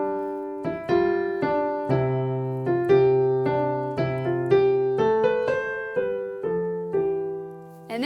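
A piano plays the carol Deck the Halls with both hands together, clear separate notes and chords in a steady moderate rhythm, each decaying before the next, close and alone without any talk.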